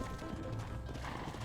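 Horse hooves clop briefly and fairly close in a Red Dead Redemption game scene, a quick run of dull impacts with no talk over them.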